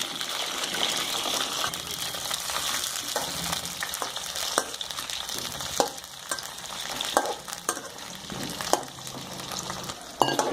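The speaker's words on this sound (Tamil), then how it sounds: "இந்த கத்திரிக்காயை ஒரு 5 நிமிஷம் நல்லா எண்ணெயிலேயே நல்லா வேக வச்சுக்கணும்." Eggplant frying in oil in a pan, a continuous bright sizzle close by, broken by occasional sharper clicks and scrapes from stirring.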